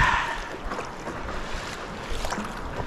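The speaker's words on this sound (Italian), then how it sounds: "l'unico suono che senti è quello del mare e il tuo respiro" Sea water lapping around a stand-up paddleboard off Medulin, Croatia in winter, a steady wash of small waves and splashes with soft wind noise, continuous and moderately loud, no voices.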